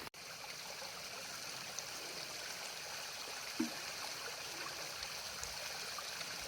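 Steady water flowing and trickling nearby from a roadside spring in the Missouri Ozarks, a continuous babbling rush with no voices.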